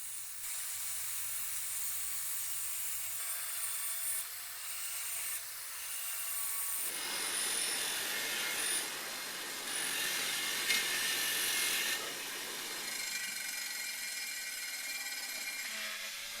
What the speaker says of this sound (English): using a wire wheel on the bench grinder